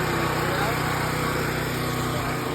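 A 12,000 watt generator runs steadily with the air conditioner on, producing a loud, constant engine drone with no breaks.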